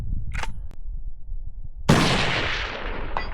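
A Weatherby rifle fires one loud, sharp shot with a long rolling echo outdoors. A few faint taps come before it, and a distant impact on the target follows.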